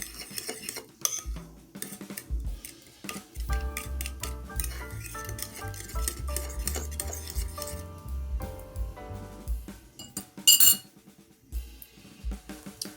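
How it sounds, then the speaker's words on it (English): A utensil scrapes and taps around a bowl of teriyaki sauce in quick irregular strokes, close by, over faint background music. "all you want to do is give that a good stir until everything is well combined"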